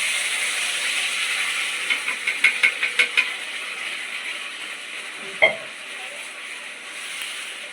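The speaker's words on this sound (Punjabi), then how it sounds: "ਇਹਨੂੰ ਆਪਾਂ ਚੰਗੀ ਤਰ੍ਹਾਂ ਫਰਾਈ ਕਰ ਲਾਂਗੇ" Masala paste for matar paneer sizzling in a pan over fried cumin and dal: a continuous hiss with a quick run of light stirring clicks and one louder knock, with no talking.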